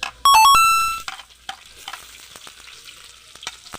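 Onion is stirred into a frying pan, giving scattered crackles and light sizzling pops. A brief bright chime comes first, then the frying noises are sparse and fairly close, with no speech.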